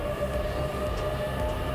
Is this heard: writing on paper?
no